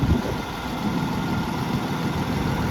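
Oliver Super 77 tractor engine idling after an oil change, a steady low rumbling idle with no talk, close by.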